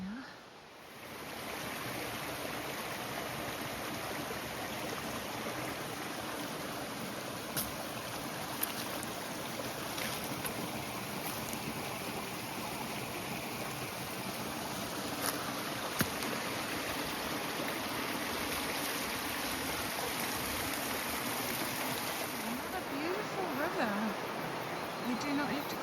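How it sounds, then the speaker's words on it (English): A stream tributary flows in New Zealand backcountry along the Te Araroa trail, a steady broadband wash of running water that holds evenly for the whole stretch with no voices. "Down there actually, another stream tributary apparently."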